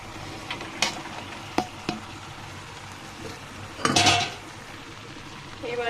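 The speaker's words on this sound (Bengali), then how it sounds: "এবার আমি নেড়ে ছেড়ে দিব।" Taro stolons with dried shrimp are stirred in a pan over a soft sizzle, a few sharp clinks of a metal spatula against the pan and a louder scraping burst, close and moderately quiet.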